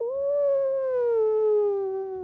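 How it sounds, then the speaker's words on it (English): A single long wolf howl, clear and close, holds a steady pitch that sinks slowly toward the end with no other sound around it. "you hear more wolves howling in the background."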